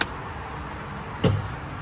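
A glove box on a 2020 Boston Whaler 240 Dauntless boat shutting with a single short thud about midway, over a low steady background hum.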